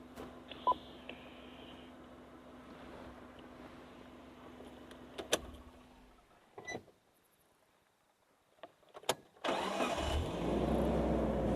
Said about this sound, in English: When I started the car again, she didn't even move